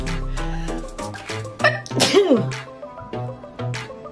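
A person sneezes once, sharp and close, while working on synthetic Marley hair, with steady background music playing underneath.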